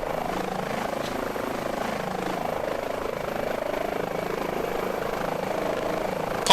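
An H145 helicopter in Microsoft Flight Simulator hums with a steady, continuous rotor and turbine drone. It stays even and fairly loud throughout, with no voices.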